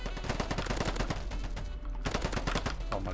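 Rapid carbine gunfire in a video game, a fast stream of loud shots rattling steadily with only a brief pause before resuming.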